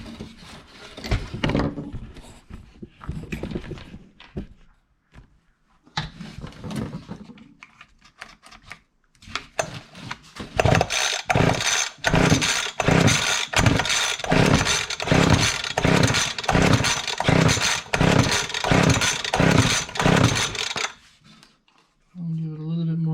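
Weed Eater Excalibur 22-inch gas hedge trimmer being pulled and sputtering, then catching into a loud, pulsing two-stroke run with rhythmic blade chatter, before cutting off abruptly.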